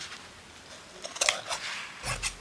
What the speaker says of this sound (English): I'm going to have to actually cut through that little flower.